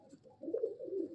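Madrasi pigeon cooing close by, a low soft rolling coo that swells and pulses steadily through the whole moment, with no talk.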